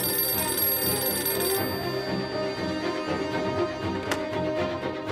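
Telephone bell ringing in an office, a continuous tonal ring that fades into quieter background sound partway through.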